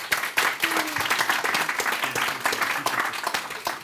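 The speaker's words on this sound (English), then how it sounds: "Can we have a round of applause for their contribution?" Lively applause from a room full of people at a policy session, sharp individual claps blending into a steady round, fairly close and loud.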